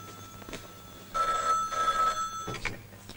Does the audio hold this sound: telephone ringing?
yes